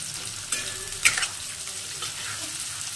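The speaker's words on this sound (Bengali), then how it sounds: "এটা পুরো হাই ফ্লেমে আমাকে ভাজতে হবে।" Sliced onions fry on a high flame for biryani beresta, a steady close sizzle in oil with a couple of brief utensil clinks and scrapes near the start.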